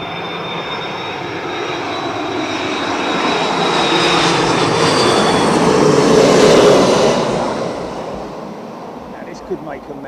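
Jet engines of a Qatar Airways Airbus A330 at London Heathrow Airport, a loud broad roar that swells to a peak and fades as the plane passes, with a voice speaking briefly at the end.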